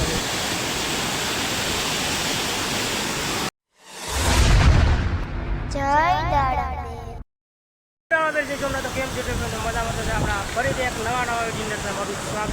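Floodwater of the Saraswati river at Prachi Tirth, swollen bank to bank, rushes with a steady, loud, close roar. A heavy wind-like buffet and a brief silent cut break it, then the rushing returns under someone speaking.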